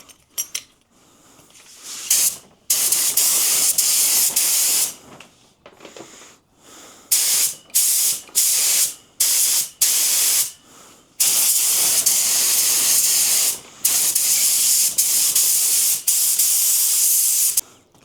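Paint spray gun blasting out mineral spirits in bursts, loud hissing sprays of a few seconds each separated by short pauses, during a Chevrolet square body dually wheel restoration.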